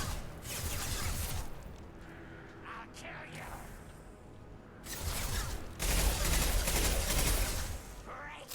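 Gunfire in the video game Mass Effect, heard as dense, sustained bursts of rapid shooting and noisy combat effects that ease briefly midway before returning loud, with a player's voice over it.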